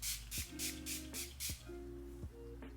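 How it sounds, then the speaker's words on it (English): Rose water facial setting spray misted onto skin: five or six short, crisp hissing bursts in quick succession, close up, with a faint low hum underneath and no talking. "I like to just spray this on my skin"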